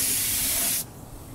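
Motorcycle parts for a Honda NS250R restoration get a close, loud spray-gun hiss of paint that cuts off abruptly after under a second, leaving a quiet room.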